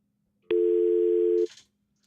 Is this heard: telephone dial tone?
yes